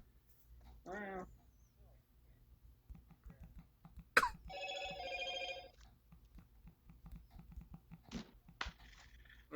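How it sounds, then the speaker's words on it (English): A phone chimes with an incoming message during a podcast recording, a short bright electronic tone burst in the middle, with people talking and a cat meowing before it and some scattered clicks after. "There's the phone."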